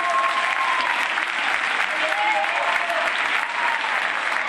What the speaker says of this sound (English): Let's hear one more big round of applause for our orchestra